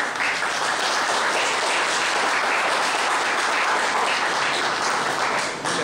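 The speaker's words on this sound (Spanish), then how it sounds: "Le damos fuerte aplausos." Lecture audience at a university criminal law specialization course in Peru applauding, a dense, continuous round of clapping from many people that stays loud and even throughout, with no voices on top.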